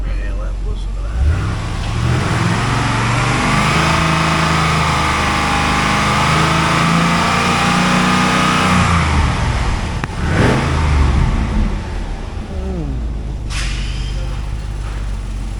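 A 2005 Pontiac GTO's 6.0L LS2 engine idles close by, then revs up in a long rising and falling sweep, followed by a couple of sharp throttle blips, all loud and clear.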